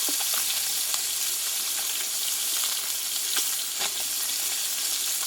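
Tengra fish fries in a pan with a steady, close sizzle and crackle, broken by a few brief sharper pops. No voices are heard.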